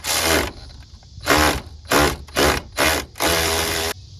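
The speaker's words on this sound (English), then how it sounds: "we'll go ahead and we'll tighten up our bolts here" A ratchet tightening the alternator bolts on a 2007 Cadillac SRX, about six separate bursts of rapid clicking, the last one longest, loud and close with short pauses between strokes and no talking.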